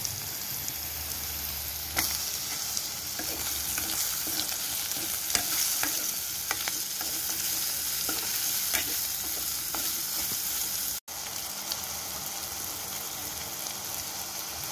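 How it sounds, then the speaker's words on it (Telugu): Chopped ridge gourd for a curry sizzles steadily in hot oil, with intermittent scraping and stirring of the spoon against the pan and a brief break near the end. "ఇప్పుడు ముందుగా కట్ చేసి పెట్టుకున్న"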